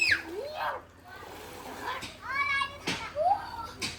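Children play in water with faint splashes and sloshing, their high voices calling and shrieking in bursts, during an outing to Lonavala.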